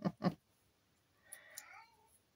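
A pet cat indoors lets out a single faint, drawn-out meow after two sharp knocks, heard alone in a quiet room.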